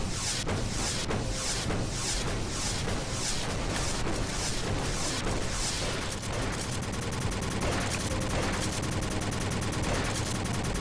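Video game gunfire in I Am Rambo Kickass Commando, shooting into forest trees: dense, continuous rapid bursts with rhythmic pulsing blasts, loud and unbroken over a busy game soundtrack, with no talking.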